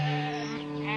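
A single drawn-out goat bleat from a goat herd in a Tamil cartoon, loud and close, wavering in pitch and standing alone without talk.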